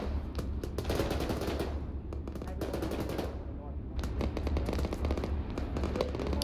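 Gunfire in a Cold War combat game with an M113 armored personnel carrier nearby, a loud machine gun firing in rapid bursts over a constant engine rumble, with brief gaps between volleys.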